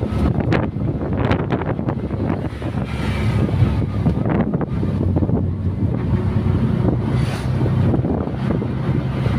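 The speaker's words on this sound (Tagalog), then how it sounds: "hangin mga brother" Gusty wind roars and buffets against the microphone outdoors in Pangil, Laguna, a continuous low rumble with rising and falling surges and no voices.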